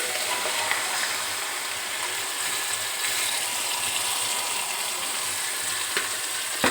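Chicken hisses in a pan of masala for chicken mandi, a dense, continuous sizzle heard up close with a few faint scraping ticks.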